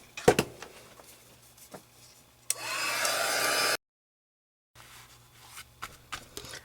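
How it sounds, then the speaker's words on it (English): A handheld heat tool blows on texture paste for a mixed media card, a steady roaring whoosh lasting about a second before cutting off abruptly, surrounded by soft tapping and handling noises. "Use my heat tool to dry the texture paste"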